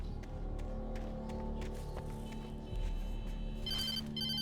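A telephone rings in the video game Alan Wake, a short electronic ring near the end over a steady low ambient drone, with no voices.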